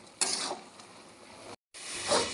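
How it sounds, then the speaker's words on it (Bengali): Tomato chutney with cashews and raisins is stirred in a pan, giving a soft sizzle with scraping spoon strokes, moderately quiet, broken by a brief gap. "কাজু আর কিশমিশটা দিয়ে দিলাম এবার ভালো করে নাড়িয়ে দেবো"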